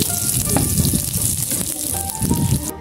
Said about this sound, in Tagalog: Inilagay ko na rin yung sibuyas at bawang para igisa.